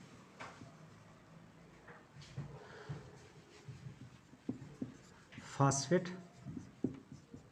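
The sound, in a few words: writing on a board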